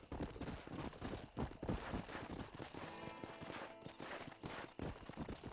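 Horse hooves clip-clopping steadily in Red Dead Redemption, a repeating walking rhythm of moderate loudness with faint background game ambience throughout.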